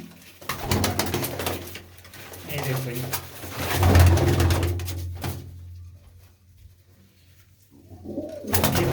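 Blue-footed pigeons coo in low, throaty bursts close by at a village fair, mixed with someone talking over them.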